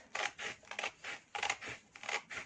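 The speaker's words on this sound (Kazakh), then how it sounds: "осы қара белгіленген сызық бойынша выкройкамызды қиып аламыз" Scissors snip through paper along a marked black line while cutting out a sewing pattern, giving several short crisp cuts in an uneven rhythm, close and fairly quiet with no talk.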